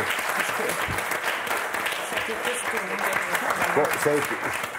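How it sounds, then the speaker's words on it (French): Loud, steady applause from a French TV game show studio audience, dense clapping throughout, with voices faintly mixed in beneath it. "Je voulais d'abord qu'on vous applaudisse très très fort."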